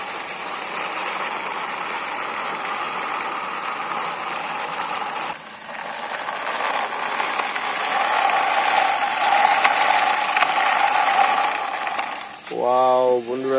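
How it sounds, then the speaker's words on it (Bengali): Red toy racing car with stickers pushed along by hand, giving a continuous ratcheting, gear-like whir that swells slightly near the end before a short voice breaks in. "চলো আমরা এটাকে হ্যান্ড ড্রাইভ করি।"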